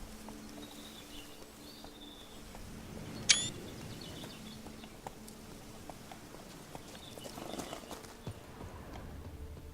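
Hooves of the horse Roach clip-clop steadily in The Witcher 3: Blood and Wine, a faint, even walking rhythm under ambient game sound, with one sharp bright click near the middle.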